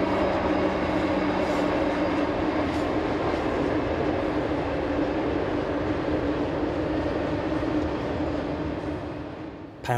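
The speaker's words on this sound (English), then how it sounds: "an SD70 M-2 was leading an older SD70 M with a Dash 9 attached to the train." A southbound intermodal freight train led by an SD70M-2 locomotive, with an SD70M and a Dash 9 behind, rolls past nearby as a steady, loud rumble of wheels and cars.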